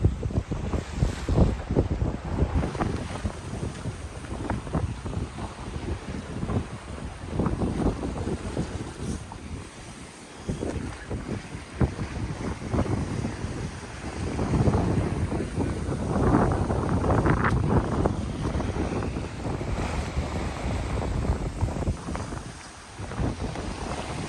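Wind and waves around a sailboat at sea on a passage from Saint-Malo to Camaret-sur-Mer, with 2 to 3 foot seas and occasional larger swells. Heavy, continuous wind rush buffets the microphone over sloshing water throughout, with no talking.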